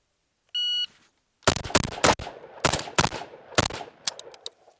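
A shot-timer beep, then a rapid string of loud AK rifle shots at an outdoor shooting range, cracking in uneven bursts close to the listener.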